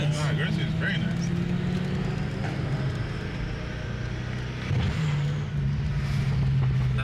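BMW M car, an F80 M3 on E85 or an F10 M5 with loud exhaust, accelerating with turbo spool and engine roar, loud and continuous at close range with a brief dip midway.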